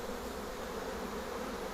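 Honeybees, including drones, hum inside a Flow hive, a continuous close buzzing with no pauses.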